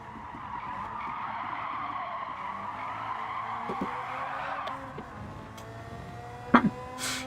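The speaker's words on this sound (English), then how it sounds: "why is it so loud on the tire screech?" Tires screech in a racing video game during a flying lap, a sustained skidding squeal that climbs and falls as the car slides, over a steady engine drone, with a few sharp bursts near the end.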